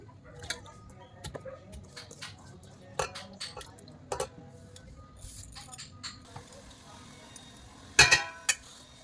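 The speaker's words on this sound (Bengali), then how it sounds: "এবার হাঁড়ির মধ্যে সব নিয়ে নিচ্ছি।" Marinated mutton with lemon juice and yogurt goes into a cooking pot, heard as scattered soft clinks and scrapes of utensils against the pot, some sharper knocks near the end, under quiet room noise.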